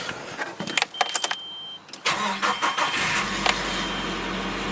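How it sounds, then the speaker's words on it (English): A 5-speed car cranks over on a cold start, with a brief whirring starter and a pause before the engine catches and settles into a steady, loud, close idle. "But we're just gonna do a cold start video."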